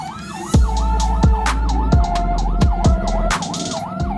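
An ambulance siren wails loudly and close, its tone sweeping up and down in repeated cycles over steady traffic rumble, with sharp low thumps cutting in now and then.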